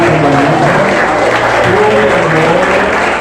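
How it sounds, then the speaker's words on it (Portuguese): A church congregation at a Sunday worship service applauds loudly and continuously, a dense wash of clapping with voices and singing mixed in. "Vamos aplaudir o Senhor porque Ele é digno."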